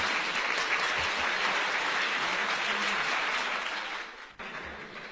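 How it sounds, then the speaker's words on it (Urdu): An audience gives a sustained, dense round of clapping at a literary gathering. The applause thins briefly near the end, then continues at a slightly lower level. "آپ کی بھرپور تالیوں میں"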